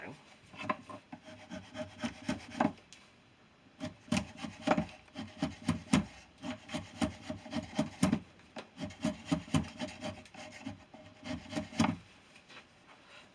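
A steel chisel is ground on a coarse belt sander, making rhythmic rasping scrapes in short bursts with brief pauses between passes, moderately close and without speech.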